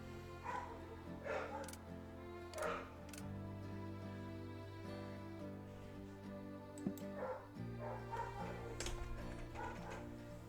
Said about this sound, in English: I absolutely adore my dogs, but they are highly reactive.